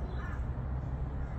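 A crow-like bird gives a harsh caw over a steady, dense low rumble that fills the whole short stretch.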